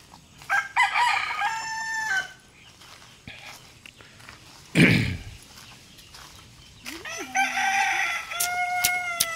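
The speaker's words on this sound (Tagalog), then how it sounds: "Marami na palang alaga dito si Kuya Roding manok" A farm rooster crows loudly and close by several times, long drawn-out calls with a thump of footsteps between them and people speaking nearby.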